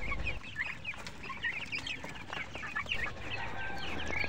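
Eight-day-old chicks chirp in a brooder, a busy overlapping chorus of high peeping calls running continuously and fairly close, with low rumbling background noise underneath.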